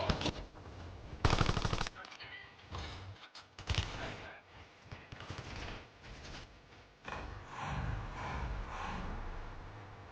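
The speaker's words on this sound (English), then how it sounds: "I'm getting shot from up top." Video game gunfire: rapid bursts of automatic weapon fire and single shots crackling in uneven clusters, loud and close, with brief gaps between volleys.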